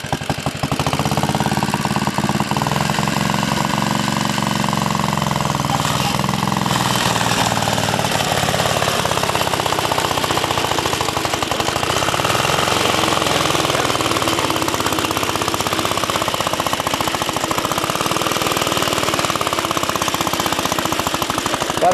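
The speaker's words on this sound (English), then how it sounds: "Look how that thing works, boy. She cuts nice." Cooper Klipper lawn mower cutting grass low, its engine running loud and continuously with a rapid rattling, chattering beat throughout.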